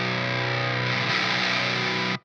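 Heavily distorted electric guitar run through a Darkglass Alpha·Omega 900 with a Lancaster Audio Mesa Rectifier impulse response, one sustained dense chord ringing loud and steady for about two seconds before cutting off abruptly.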